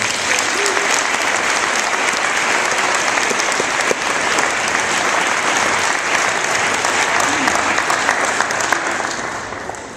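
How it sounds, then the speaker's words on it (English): Gymnasium crowd at a school dedication ceremony giving sustained, loud applause for Pete Schneider, dense steady clapping that carries on throughout and eases slightly at the end. "Could you give Pete Schneider a round of applause?"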